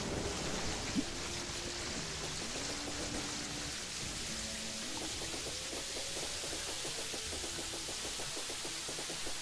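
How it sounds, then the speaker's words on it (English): Soft, steady rainfall patters in the background of the video game Terraria while a quiet melodic tune plays over it. "it's not in fact nighttime, it's just dark because it's raining."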